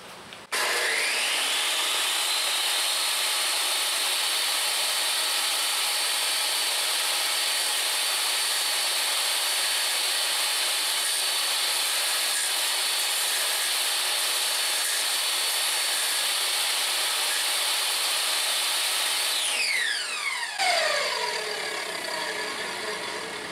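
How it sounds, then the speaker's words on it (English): Wood is fed in lateral passes across a spinning saw blade, giving a loud, continuous whining rasp for about twenty seconds before the blade winds down. "So I'm going to make some lateral passes across the blade."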